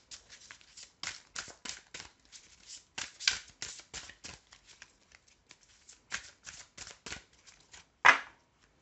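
A deck of oracle cards is shuffled by hand, giving a string of close, crisp riffling bursts in an uneven rhythm with short pauses and a sharper snap near the end.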